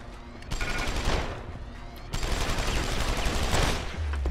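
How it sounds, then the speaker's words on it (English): Barrett's minigun in Deus Ex: Human Revolution lets loose sustained, rattling bursts of rapid fire, loud and close, with a brief pause between two long volleys. "He's got a minigun."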